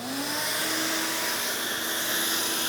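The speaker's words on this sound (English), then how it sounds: "Turn the vacuum on" A vacuum cleaner hooked to a pocket hole jig whirs steadily at close range, a constant loud drone with a high whine running throughout.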